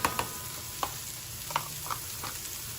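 Small diced carrot and spring garlic sizzle softly in a pan, with a few sharp clicks of a spoon or spatula against the pan over a quiet, steady hiss.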